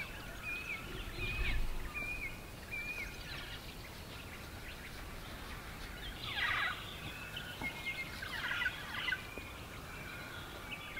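Several birds call and chirp at sunrise at a moderate distance, with bright trills and short whistled phrases over a steady, soft outdoor background.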